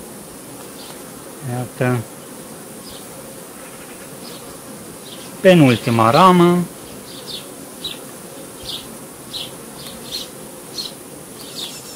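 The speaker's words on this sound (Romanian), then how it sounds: "Iată ce frumos stă albina aici." Honeybees hum steadily around an open hive frame, with a voice speaking briefly twice over the buzzing and a few soft clicks and taps.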